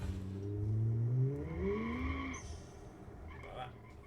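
An engine revs up and climbs in pitch in a sports car from the Automation car-design game, a loud rising whine that fades after a couple of seconds, with a faint squeal afterward.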